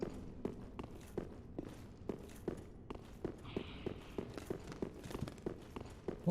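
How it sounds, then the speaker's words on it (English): Footsteps in Dark Souls 3, a steady run of heavy, evenly spaced thudding steps on a hard surface, moderately near, alone without talk. "What footsteps am I hearing?"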